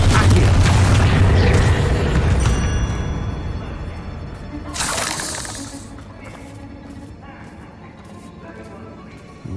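A heavy boom from a Confringo blast spell in Hogwarts Legacy opens the stretch, then fades into scattered clatter and a second burst, with spoken lines from characters in the game.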